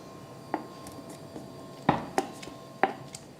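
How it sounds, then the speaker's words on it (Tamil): A knife cuts a set milk sweet into square pieces, giving a few sharp, separate taps of the blade against the tray over quiet background, with no talking. "ஷேப்பாக நல்லா அழகாக நம்ம கட்டமாக நம்ம வந்து கட் பண்ணி எடுத்துக்கலாம்"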